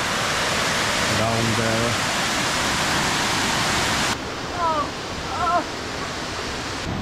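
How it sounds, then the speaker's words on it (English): Water pouring over an overflowing dam in Austria, a steady loud broadband roar filling the whole clip, with brief speech over it before the rush drops somewhat and continues more softly. "This whole place is a water dam and it's overflowing"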